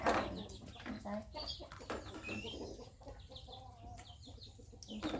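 Chickens cluck and chatter in short bursts at a rural Thai home, moderately close, with faint background activity and no clear talk.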